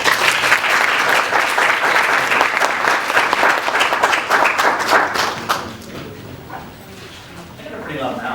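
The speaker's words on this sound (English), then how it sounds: "So please, a round of applause, and let's welcome Daniel." A room full of people at a book talk applauds to welcome the speaker Daniel, loud dense clapping that holds strongly for several seconds before thinning out and fading, with some voices mixed in.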